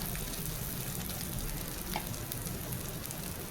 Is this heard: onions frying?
yes